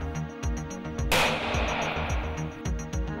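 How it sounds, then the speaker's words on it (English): Small-scale blast simulator built to test protective buildings sets off a sudden loud explosive burst that spreads into a broad roaring wash, over a steady low mechanical hum with recurring thuds. "developing the blast simulator, which can give us the ability to conduct a real blast explosion"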